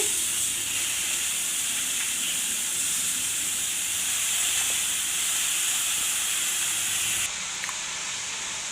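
Ash gourd pieces land in a pan of hot oil with fried garlic, chili and onion, giving a loud, steady broadband sizzle that drops slightly in level near the end.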